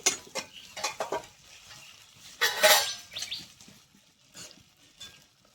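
A metal spatula scrapes and taps in a pan while rolling a roti roll, with a few light clinks and scrapes, a louder burst of scraping midway, then softer intermittent contact.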